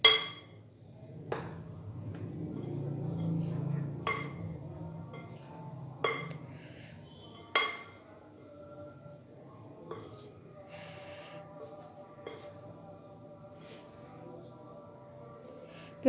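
Half a kilo of gram flour being mixed in a bowl, with occasional sharp clinks of a spoon against the bowl amid soft, muffled stirring, close and quiet with long gaps.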